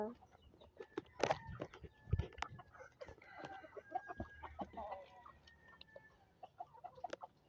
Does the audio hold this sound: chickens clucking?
yes